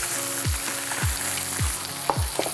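Fish sizzling in hot oil in a frying pan, a loud steady crackle with four low thumping bumps at regular intervals and a couple of sharp clicks near the end.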